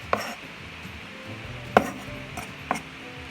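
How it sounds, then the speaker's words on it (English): A knife chops tomato on a board for Goan crab xec xec, three separate sharp taps spaced unevenly, with soft kitchen background noise and no talking. "we chop the tomato"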